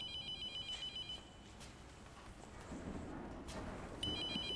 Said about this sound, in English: Okay, the phone stopped ringing?